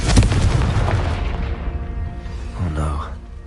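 A Confringo explosive spell in the video game Hogwarts Legacy goes off as one loud booming blast at the start, then rumbles and fades over a few seconds, with a voice briefly audible near the end.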